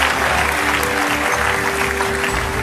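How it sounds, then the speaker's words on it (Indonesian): A studio audience applauds a guest on stage at a televised Indonesian talk show celebration, steady dense clapping filling the whole stretch at close, even loudness. "Jadi kita kasihkan tepuk tangan sambutan sekali lagi."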